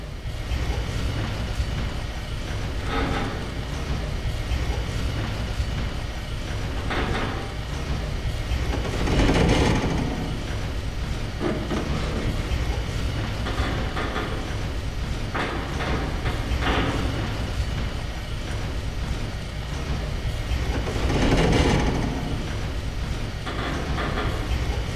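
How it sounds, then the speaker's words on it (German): An elevator in the stealth video game Thief rumbles along with a continuous low mechanical drone, rattling and clanking at intervals like a moving rail car, with no voices over it. "ob der Fahrstuhl auch nach oben fährt"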